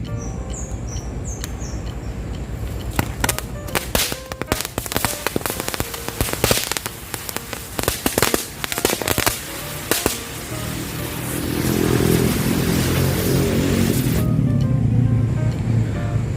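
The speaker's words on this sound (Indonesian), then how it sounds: "sekarang kita lanjut cobain mercon roda warna" A rapid run of crackling firecracker pops and bangs, then a steady hissing, spinning whoosh of a colored firework wheel takes over.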